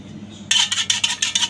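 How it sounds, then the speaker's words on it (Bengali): A metal spoon stirs freshly made tea in a cup, giving a quick run of bright, close clinks and scrapes against the cup's sides after a brief quiet start. "এখন একটা চামচের সাহায্যে ভালো মতো নাড়িয়ে নেব।"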